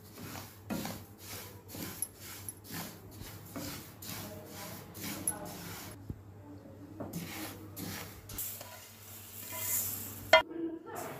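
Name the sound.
sesame seeds roasting and stirred in a pan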